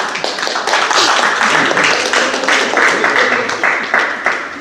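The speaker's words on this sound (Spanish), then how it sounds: "¿Cuántos dicen amén y le dan un aplauso al Señor?" A church congregation claps and applauds together during a Spanish-language leadership service, a dense, steady burst of many hands, loud and close, with some voices mixed in.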